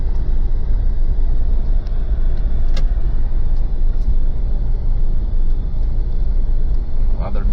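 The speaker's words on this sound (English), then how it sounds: "Whenever the corrugations get more prominent, the rattling intensifies." Pajero interior while driving over corrugated road on a snowy night, a loud constant low rumble with faint rattles and occasional sharp clicks throughout.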